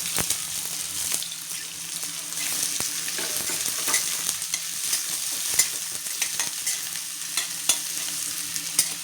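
Onions and chilies fry in hot oil in a pan, a steady bright sizzle with scattered pops and clicks of stirring throughout, close and continuous with no talking.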